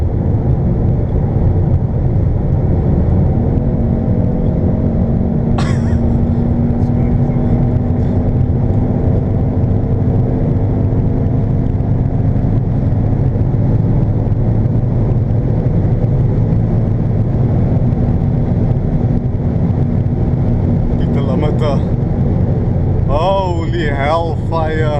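A 2019 Ford Mustang launching hard, a loud sustained engine roar with a rising tone, heard from inside the car with steady wind and road noise, and a voice speaking briefly near the end.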